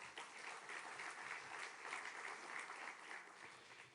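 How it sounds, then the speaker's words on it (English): Audience applause greets ministers at a French diplomatic conference, a continuous, even patter of many hands clapping, moderately distant and unbroken for the whole stretch. "On peut les applaudir également"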